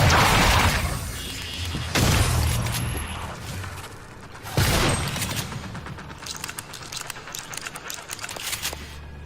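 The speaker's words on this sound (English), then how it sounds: "Trusty shotgun." Shotgun blasts from the video game Prey (2017), several loud booming shots spaced a couple of seconds apart, each followed by crashing debris and a decaying rumble, then scattered clattering impacts.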